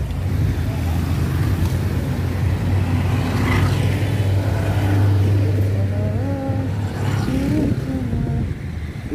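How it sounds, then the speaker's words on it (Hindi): Kathmandu city street traffic near Shahid Gate rumbles loudly and continuously, with car and motorbike engines droning and revving close by and distant horns and road noise blending in; no one speaks. "this one is the traffic of Kathmandu city"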